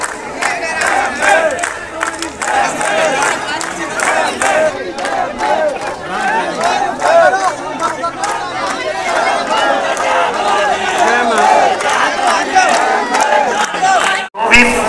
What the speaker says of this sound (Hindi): देख सकते हो दोस्तों यहाँ का भीड़ शिवनाथ नदी के दुर्गा विसर्जन पुल में जितने भी दर्शक खड़े हैं